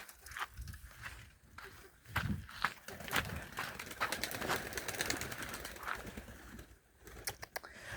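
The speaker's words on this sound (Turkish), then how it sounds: "Şu kuşlarımız geliyor." Pigeons gather outdoors, with soft cooing, wing flaps and scattered pecking taps mixed with shuffling and faint background voices, close-up and irregular.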